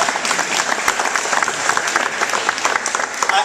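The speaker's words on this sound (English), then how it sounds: "give David a round of applause" A crowd at an Adams County campaign event applauds for David Pepper, Democratic candidate for Attorney General: close, dense clapping with a few voices mixed in.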